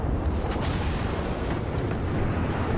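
Battleship Friedrich der Große fires its guns in World of Warships, a continuous heavy rumbling roar of artillery and explosions at close range, loud and sustained with no distinct pauses.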